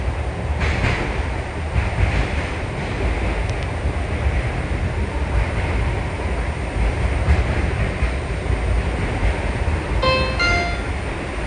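A PATCO subway train runs through the tunnel past the 16th and Locust station with a loud, steady rumble and rattle of wheels. A brief high metallic squeal rings out near the end.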